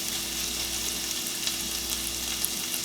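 Chickpeas fry in a pan on the stove with a steady, close, even sizzle that never breaks, and no one speaks.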